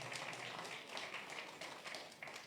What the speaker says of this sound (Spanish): fuertes palmas para nuestra participante